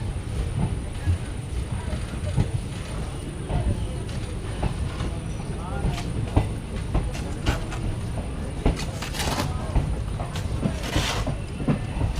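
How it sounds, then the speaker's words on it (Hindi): Vibhuti Express train pulling out of Prayagraj Rambagh railway station, with continuous rumbling wheels, rhythmic clatter over rail joints and occasional hisses and squeals, close and steady, while voices talk over it. "अब ये प्रयागराज रामबाग रेलवे स्टेशन को छोड़ते हुए बाहर जा रही है"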